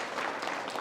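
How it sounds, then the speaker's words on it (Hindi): Clapping from an audience at a Buddhist community gathering in Wardha, a short steady burst of applause, moderately faint and without speech. "जोरदार तालियां।"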